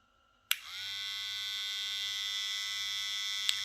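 A VGR V-063 hair trimmer switches on with a click and settles into a steady, close electric buzz with a bright whine, running alone without talk.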